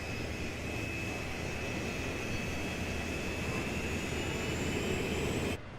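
Twin engines of a CF-18 fighter jet roar in a loud, steady, broadband drone with a thin high whine on top, sustained unchanged for several seconds before cutting off abruptly.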